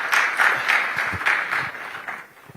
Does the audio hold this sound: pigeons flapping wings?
no